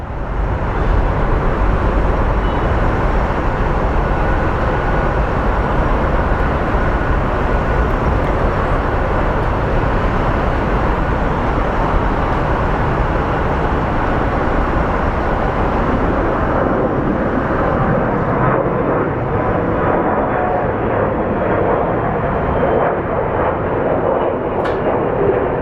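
An Envoy Airlines airplane passes at Phoenix Sky Harbor International Airport, a loud, steady broadband engine roar that holds for over twenty seconds before easing slightly toward the end.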